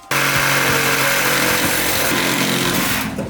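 Power tool cutting through a car's shock absorbers on a supercharged 1965 Mustang: a loud, continuous high-pitched grinding whine that starts abruptly and runs steadily for a few seconds before cutting off.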